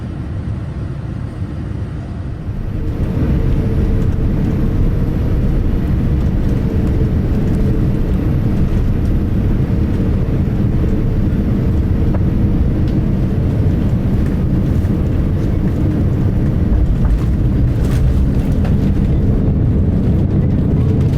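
Steady, loud cabin drone of a Qatar Airways Boeing 787-9 Dreamliner in flight on approach to Doha, heard from the business class cabin, rising after a quieter start and holding a constant broadband roar.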